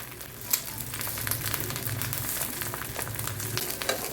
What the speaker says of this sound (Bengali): একটু ডিম ভাজা করে নিচ্ছি